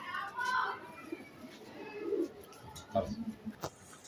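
Pigeons cooing at a pigeon farm, several soft throaty coos near the microphone with a few brief chirps, and a little background chatter.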